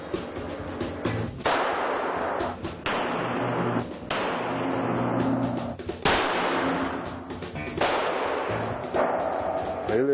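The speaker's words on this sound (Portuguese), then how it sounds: "Baixa a trava e efetua o disparo." Pistol shots at a shooting range, a series of loud, sharp bangs at irregular intervals, each with a reverberant decay, close to the listener.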